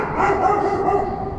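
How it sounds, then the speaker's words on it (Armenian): A dog barks on a street near an intersection, sounding from a distance. The barks are continuous and moderately loud over steady outdoor ambience. "այս շունը որտեղից է լսվում,"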